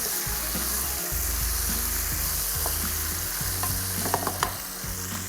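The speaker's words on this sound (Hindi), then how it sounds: "फ़िश को अच्छे से इन मसालों में फ्राई करना है" Fish sizzles and fries in a karahi with achari spices, a steady hot crackle under repeated stirring and scraping of the pan, close up with no voices.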